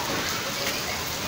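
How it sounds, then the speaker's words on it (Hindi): Sudden heavy storm rain in Karachi, a steady, dense downpour hissing close by, continuous and loud throughout this brief moment, with no clear voices. "बहुत ही तेज़ बारिश हुई है"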